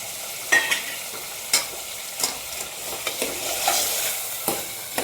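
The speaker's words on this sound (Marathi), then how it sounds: "आता एक वेळ चिकन मस्त फिरून घेऊ." Washed chicken pieces are stirred into a hot spice tempering in a pan in a home kitchen. A loud, continuous sizzle fills the clip, broken by repeated scraping strokes of a spoon at irregular intervals, with no talking.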